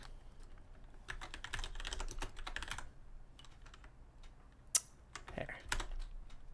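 Rapid computer keyboard typing in several quick bursts with brief gaps and one sharper click, soft and close with no voices.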